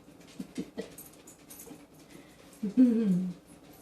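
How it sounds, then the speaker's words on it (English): Small dogs whimper nearby in short, soft bursts, ending with a longer high-pitched whine, over quiet background sound. "Love them puppies"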